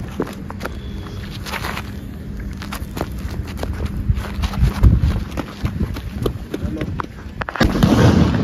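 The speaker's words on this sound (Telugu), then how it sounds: "ఎట్లా వేలింది తెలుసా బాంబు" A large firecracker bomb goes off outdoors at a celebration, with sharp bangs and crackling bursts over crowd noise and footsteps. A heavier rumble swells near the end.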